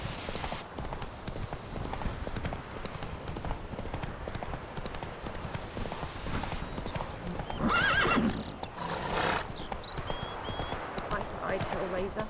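In The Witcher 3, the horse Roach's hooves clip-clop at a steady galloping rhythm, and a loud whinny breaks out partway through over a faint game soundscape.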